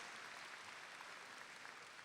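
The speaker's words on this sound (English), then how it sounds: "Give them a round of applause and say thank you." Audience applause at a 2021 high school graduation ceremony, honoring the graduates' parents; steady, dense clapping fills the whole moment, fairly soft and even with no voices on top.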